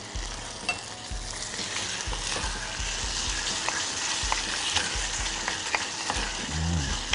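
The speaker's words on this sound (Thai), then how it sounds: "ผัดจนเขาเดือดนิดนึงนะครับ" Pork-wrapped asparagus stir-fried in a pan with garlic and tomato sauce, a steady loud sizzle broken by regular scraping stirring strokes about once a second, with no talk.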